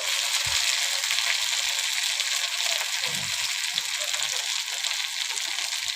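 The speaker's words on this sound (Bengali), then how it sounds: "তো বন্ধুরা একটু সময় দিয়ে দিয়ে ভাজবেন, যে সবজি যেন খুব ভালো করেই ভাজা হয়।" Vegetables frying in a pan with turmeric and spices, a steady loud sizzle with occasional stirring scrapes throughout, no voices.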